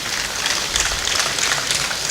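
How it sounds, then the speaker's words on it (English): An audience at a financial literacy live-streamed event applauds its gold sponsor FMDQ, a dense, steady wash of clapping from many hands filling the room, loud and continuous without any talk over it. "Please, let's clap for FMDQ."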